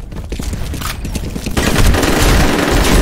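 Grenade blast in the multiplayer shooter FEAR during a capture-the-flag match, a loud burst that swells into sustained rumbling gunfire-like noise.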